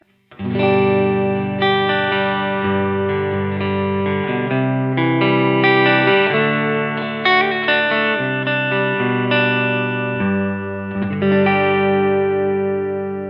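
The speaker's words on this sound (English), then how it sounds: "Clean tone I'm using sounds like this." A clean electric guitar plays sustained chords and single notes through an amplifier, ringing with a bit of shimmer and steady loudness throughout.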